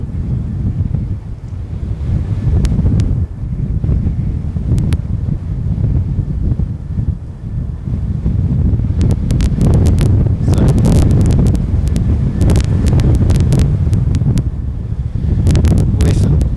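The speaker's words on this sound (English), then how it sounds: "there's just so much wind. It's just absolutely insane." Strong gusty wind blowing straight into an outdoor microphone beside an airport runway, a loud continuous low roar with sharp buffeting crackles that intensify in the second half.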